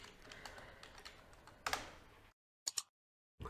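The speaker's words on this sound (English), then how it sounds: "So type the password" Keys tapped on a computer keyboard in quick irregular bursts, close and quiet, ending in a few isolated clicks separated by silence.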